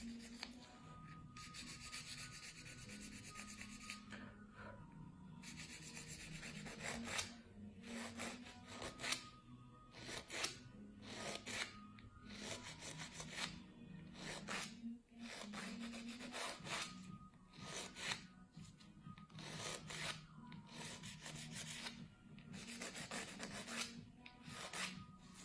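Wooden nail file rasping over a nail surface, a quiet, close, rhythmic scratching in repeated short strokes with brief pauses between them, without speech.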